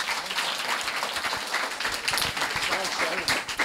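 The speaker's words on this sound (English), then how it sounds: "Let's give a big round of applause to everyone involved in this program." Audience applause at a Kathakali performance program, a thick wash of clapping from a crowd mixed with voices murmuring and talking underneath throughout.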